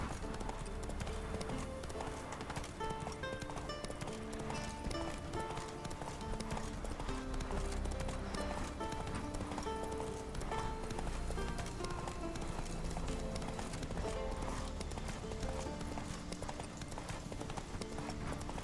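Horse hooves galloping with a steady clip-clop in The Witcher 3 video game, running continuously at moderate loudness under a dense layer of game music and ambience.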